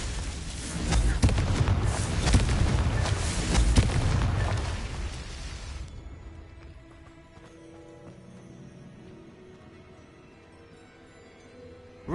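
A Confringo blasting-curse explosion in Hogwarts Legacy lands as a loud, roaring burst that rumbles for several seconds. It then drops abruptly to a quiet game background with faint tones.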